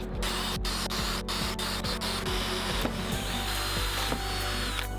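A DeWalt 20V compact drill drives a half-inch Forstner bit into a 2x4, a continuous loud motor whine with grinding, rubbing wood-cutting noise and a few brief pauses in the bite.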